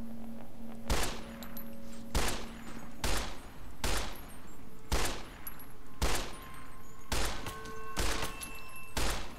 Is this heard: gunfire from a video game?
yes